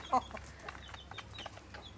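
A single short hen cluck from a backyard coop of about 25 chickens near the start, then only faint farmyard background noise.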